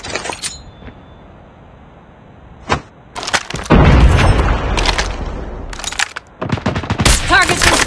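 A bomb drop in the video game Call of Duty Mobile brings a loud, close explosion with a low rumble, mixed with sharp gunshot cracks and rapid automatic fire after a quieter lead-in.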